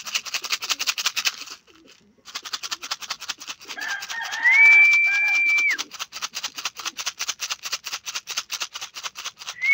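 Pigeons settling into a small mini loft give soft coos and rustles, with a rapid repetitive chattering sound running through most of the stretch and a brief sustained tone near the middle; nobody talks.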